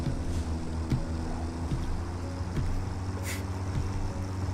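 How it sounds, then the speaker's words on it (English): A tractor drives by in the factory-building video game Satisfactory, producing a constant low engine hum and rumble with faint mechanical knocks, steady and moderately close, with no speech. "Gotta wait for that tractor to go."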